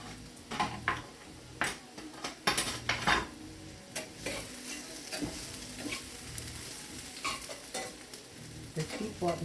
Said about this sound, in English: They keep wanting to get out of this skillet. And those are my fried potatoes.